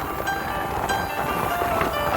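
Train rolling past on the Dooars railway route through forest country, a steady broadband rumble with rhythmic clanks from the rail cars, close by and continuous, with no voices.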